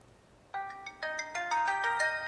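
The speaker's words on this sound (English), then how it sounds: "look at some of the ringtones that come pre-installed on the device" A pre-installed ringtone plays on a Pantech Link phone: a short bright electronic melody of rising tonal notes that starts abruptly after a brief quiet moment and continues in quick succession, clear and close.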